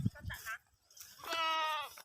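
A farm goat gives one long, wavering bleat after a person speaks briefly nearby, set among livestock being herded in Oriental Mindoro.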